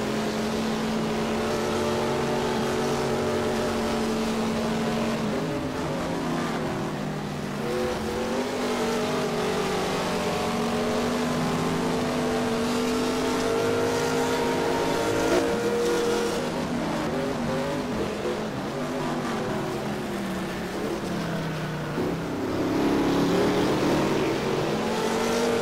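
Mustang race cars, including the Alan Moffat car, roar around the track in a historic Gold Star race at the Mission Bell 200, engines droning and revving loudly and continuously with shifting pitch as they pass.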